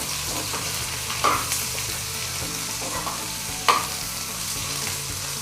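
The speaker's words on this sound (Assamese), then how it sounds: "এই পদুনাখিনি দিয়াৰ পাছত এনেদৰে ভালদৰে মিলি যোৱাকৈ আপোনালোকে ভাজি দিব" Mint leaves fry and get stirred with boriyola fish in a hot pan: a constant close sizzle, broken twice by sharp scrapes and clinks of a spatula against the pan, with no talking.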